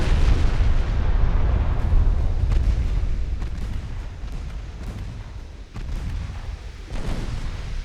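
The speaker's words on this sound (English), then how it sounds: "Gonna get some torpedo hits on Newcastle, I think." Torpedo hits exploding against the ship Newcastle in a 1904-era naval battle off Singapore in a naval strategy game: a loud, dense rumble of heavy booms with scattered sharp bursts, continuous and close, with no talking.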